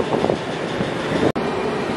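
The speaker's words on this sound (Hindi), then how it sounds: "diesel locomotive" Diesel locomotive train running on the Delhi to Dholpur route, a loud steady rumble of wheels and carriage noise heard close from on board, with a brief sharp dropout near the end.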